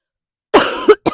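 A person outdoors near beehives coughs loudly and close, a single harsh cough followed by a brief second burst, with silence before it.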